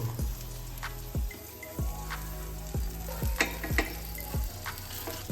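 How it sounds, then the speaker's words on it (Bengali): A folded breakfast omelette with paneer sizzles and fries steadily in a pan while a spatula repeatedly presses and scrapes it, rhythmic soft thuds over the continuous crackle. "দুই সাইডটা সেকে নিতে হবে"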